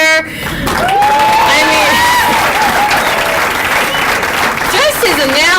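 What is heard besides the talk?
audience applause at cheerleading trophy ceremony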